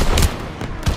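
Gunfire in the Call of Duty WWII campaign, a courtyard battle: two heavy booming shots about half a second apart over a dense, rumbling wall of distant combat noise.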